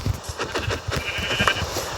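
Sheep bleat repeatedly inside a video game, several overlapping calls of middling loudness with no talking over them.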